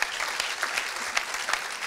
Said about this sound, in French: ça mérite applaudissements aussi comme témoignage.